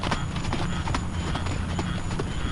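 A ridden horse trots steadily in an arena, its hooves striking an even, close clip-clop rhythm throughout, with no voices over it.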